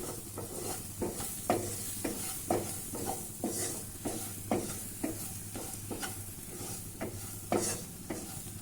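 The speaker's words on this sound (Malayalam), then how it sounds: "നമുക്ക് ആവശ്യത്തിന് മഞ്ഞൾപ്പൊടി ചേർത്ത് ഇളക്കാം." Colocasia leaves are stir-fried with turmeric in a pan, a soft steady sizzle under regular scraping strokes of a spoon, roughly two per second, close and fairly quiet.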